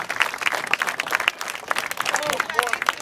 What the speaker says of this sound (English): let's give a nice round of applause